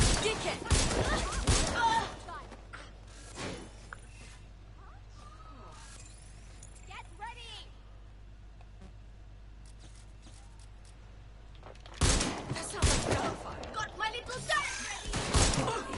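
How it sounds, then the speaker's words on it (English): Bursts of gunfire from the video game Watch Dogs Legion, with dense loud volleys in the first two seconds and again over the last four, separated by a quieter stretch of scattered game noise and occasional talk. "Sounds like gunfire."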